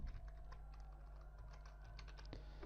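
Password being typed on a computer keyboard, with a quiet run of irregular key clicks over a low steady hum, close and faint with no talking.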